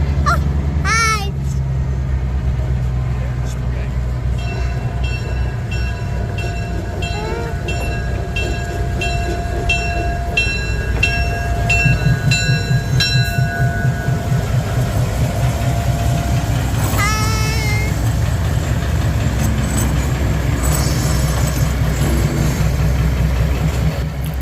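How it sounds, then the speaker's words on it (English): Wanamaker, Kempton & Southern Railroad train with its locomotive recoupled, a steady low engine rumble and rolling rail noise running throughout, with a brief high squeal partway through and people talking nearby. "Now that the locomotive has recoupled to the train, let's go ahead and board."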